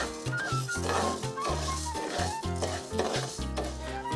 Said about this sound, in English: Add the rice and cook it, stirring frequently until it turns golden brown.